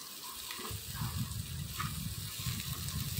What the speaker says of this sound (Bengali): এখানে আমি একটু তেল দিয়ে ভালো করে একটু ফ্রাই করে নিয়েছিলাম